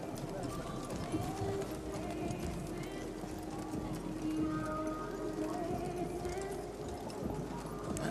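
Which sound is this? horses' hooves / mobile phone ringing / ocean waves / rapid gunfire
horses' hooves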